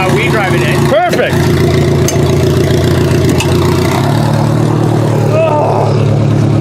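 A derby car engine idles loud and steady, with a brief rev near the start while being driven into a shop for an oil change; people talk over the rumble.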